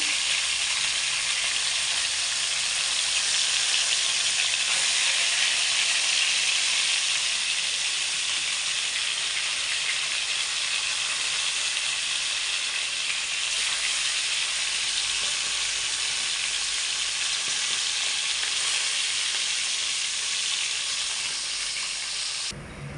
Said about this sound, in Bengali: ভাজাটা লাল লাল করে ভাজবো। মাছগুলো উঠে দেবো, এক পিঠ হয়ে গেছে।